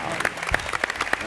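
Applause from a television talk-show studio audience, dense and sustained across the short moment, with sharp claps standing out and a voice faintly underneath.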